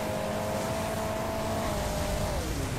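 Game engine of a vehicle in Hill Climb Racing 2, droning loud and steady with a held pitch that drops near the end, continuous with no talk.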